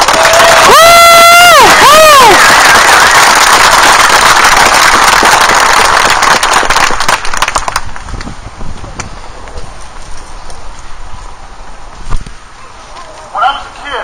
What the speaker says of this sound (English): Harris and Tennessee Firearms Administration a big round of applause, folks.